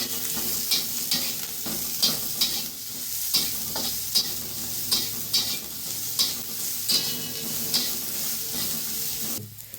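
Chopped onion and green chili frying in hot oil, a continuous loud sizzle punctuated by regular scraping stirs every half second or so, with no talking.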